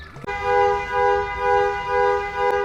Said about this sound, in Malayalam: കാനഡയിലും ഹോണടി